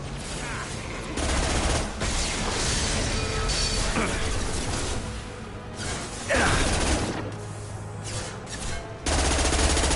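Heavy automatic gunfire from a Mass Effect 2 firefight, dense sustained bursts running nearly continuously with brief lulls, loud and close, with game effects layered in.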